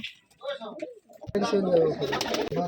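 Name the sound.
pigeons cooing at a pigeon farm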